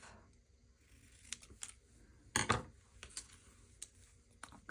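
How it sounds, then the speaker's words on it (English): Scissors cut paper for a Halloween craft project, giving faint, close snips and clicks in a quiet room, with one louder crisp cut near the middle. "I'm going to cut this off"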